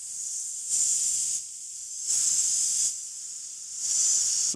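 Bright, piercing hissing 's' sounds from a vocal recorded on an Electro-Voice RE20 microphone, processed through a dbx 286s de-esser, in three sustained bursts, with quieter stretches between them and no voice.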